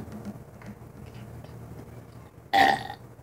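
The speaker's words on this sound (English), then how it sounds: "Because we're just over here like burping." One loud, close burp erupts near the end after drinking pickle juice, following a stretch of quiet room tone.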